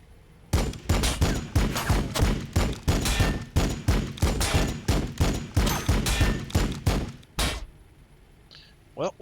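Land speeder unit firing in the Warhammer 40,000: Battlesector game, a rapid burst of about twenty loud, evenly spaced heavy gunshots running for roughly seven seconds before stopping abruptly.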